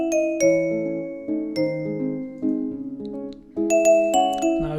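Harp and bell melody built in FL Studio, the harp shifted down an octave and the bell up, plucked notes stepping through a short tune with bright bell chimes ringing over the last phrase.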